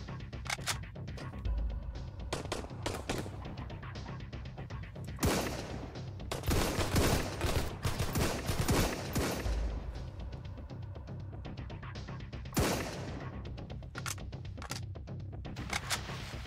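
Rapid bursts of SMG gunfire ring out in the survival game Sunkenland, with sharp rattling volleys between short pauses and a few heavy booms, and no talking over them.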